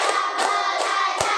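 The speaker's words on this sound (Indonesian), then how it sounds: "Tepuk 1, tepuk 2, tepuk 3, tepuk 4, tepuk 5, tepuk 6" A school class in a religious education lesson claps together in counted beats: four crisp, evenly spaced group claps in quick succession, close and loud.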